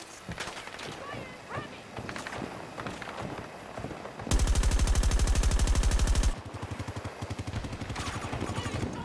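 Automatic gunfire in the Battlefield 2042 video game, with scattered shots under a voice giving way to a loud sustained burst of rapid fire for about two seconds, then further shooting continues.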